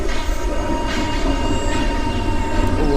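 A train rumbles and hums steadily as it is dispatched from a station in the game A.W.E, a continuous low rolling drone with faint metallic tones layered over it, heard alone without talk.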